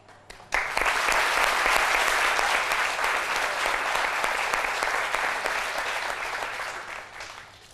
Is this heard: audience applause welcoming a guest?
yes